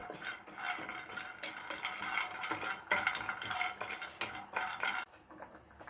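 Almonds dry-roast in an old pan while being stirred, making continuous scraping and clinking of a utensil against metal with light rattling of nuts. The sound is fairly quiet and steady, with no talking.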